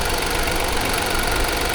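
A 1.5-liter four-cylinder EcoBoost engine in a 2020 Ford Escape runs steadily at idle, giving a constant close, moderately loud hum with a faint knocking texture and no talk over it.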